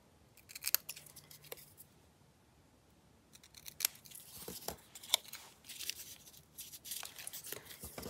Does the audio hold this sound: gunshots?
no